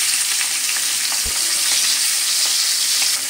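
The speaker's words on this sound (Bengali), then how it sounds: "এক এক করে তেলের মধ্যে মাছগুলো আমি দিয়ে দিচ্ছি।" Pabda fish frying in hot mustard oil makes a loud, constant sizzle and crackle, with a brief thump partway through as a piece is dropped in.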